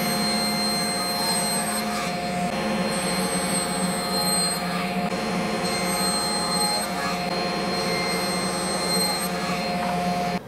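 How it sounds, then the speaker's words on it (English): A table saw rips wooden sides for a tissue box cover, its blade giving a continuous loud whine with a steady hum underneath, close and unbroken for the whole stretch. "we're going to cut them down to 5 1/2 inches here at the table saw"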